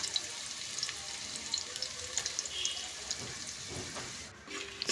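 Onions dropped into hot oil sizzle and fry steadily for chicken curry, a continuous bright hiss with small crackles, close and even throughout, no talk.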